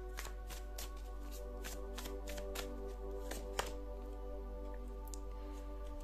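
Tarot cards shuffled and drawn in a quiet room: a run of crisp, quick riffling flicks and soft card slaps with a steady low hum beneath, one sharper snap near the end.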